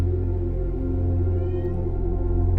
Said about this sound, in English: I don't know if you can hear my cat Shadow meowing